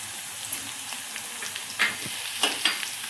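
Spices with chili, garlic and onion sautéing in a pan for a traditional village-style vegetable dish, a steady soft sizzle with a few brief stirring scrapes and clicks, close and moderately quiet, no talking.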